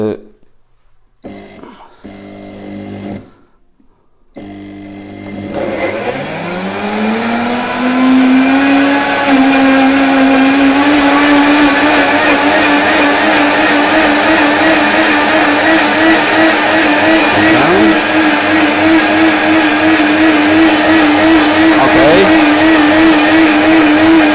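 After a few quiet moments and brief noises, a blender making a green asparagus smoothie starts up, rises in pitch, and then whirs loudly and steadily at full speed.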